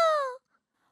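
A person imitates an affectionate cat meow with a voice: a single loud, drawn-out wavering wail that glides downward and cuts off sharply, followed by near silence.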